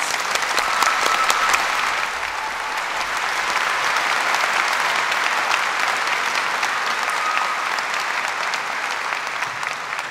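A graduation audience applauds the graduates of the Department of Medicine at a postgraduate ceremony, a dense, steady roar of many clapping hands that holds at full strength for about ten seconds without a break.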